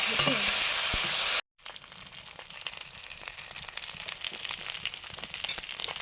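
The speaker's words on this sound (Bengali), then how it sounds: "ট্যাংরা মাছ পুঁটি মাছ ভাজে এবারে" Tangra and puti fish frying in a pan, a steady crackling and spitting sizzle at moderate level after a brief cut, with no talk over it.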